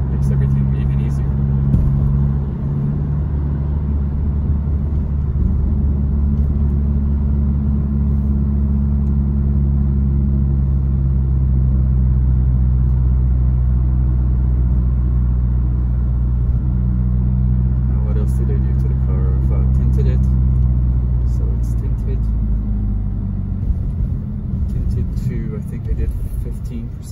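A 2022 Subaru WRX on winter rims and tires drives at night, its steady engine drone and low road rumble continuous and close, with small rises in revs near the end.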